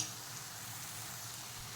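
Garlic paste sizzling in hot oil in a pan while making a green chickpea curry, a steady quiet frying hiss with no voices over it.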